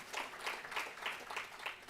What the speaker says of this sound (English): Give yourself a round of applause, please